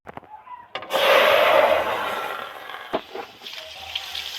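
Turmeric water holding cut banana flower pours into a cooking pan, a steady splashing gush lasting about a second and a half that then tapers into a softer trickle, close and fairly loud, with a few light clatters after.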